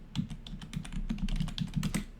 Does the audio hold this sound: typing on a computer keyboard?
yes